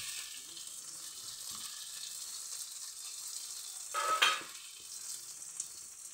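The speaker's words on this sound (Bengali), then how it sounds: "এরপর আমি পেঁয়াজ কুচিগুলো দিয়ে দিলাম পেঁয়াজটা ভাজা গেছে" Chopped onion, ginger, chili, garlic and tomato frying in oil for a tarka, a steady soft sizzle throughout with a brief louder burst of stirring or spattering midway.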